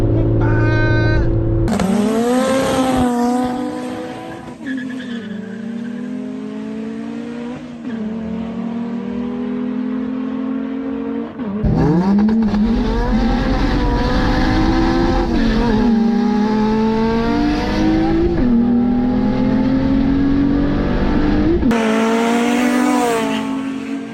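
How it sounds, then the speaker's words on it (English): A Honda Accord V6 engine revs hard and power shifts into third gear, loud and close from inside the car, with rising pitch, an abrupt drop at the shift, then climbing again. "Me power shifting third gear."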